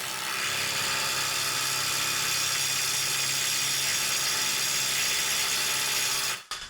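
Cordless impact wrench, a Milwaukee M12 Fuel stubby, Ridgid subcompact or Kobalt, torquing a stud with a loud continuous rapid hammering close by for about six seconds before cutting off abruptly.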